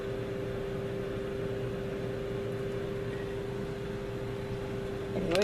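A 600-watt microwave oven running with a steady low hum and a constant tonal drone, close and even throughout, with a faint clunk right at the end.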